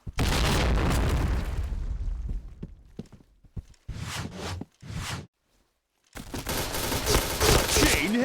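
Rapid gunfire bursts and booms from shooting-game headshot practice, loud and dense at first, then broken into short volleys separated by brief silences.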